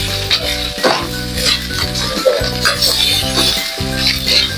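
Garlic sizzles in a hot pan while a utensil stirs and scrapes against the metal in repeated strokes, close and loud with a steady frying hiss underneath.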